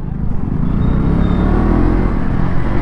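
A 2024 KTM Duke 200 motorcycle engine on throttle, a steady, loud, dense rumble that holds throughout with a faint rising whine, recorded close while riding.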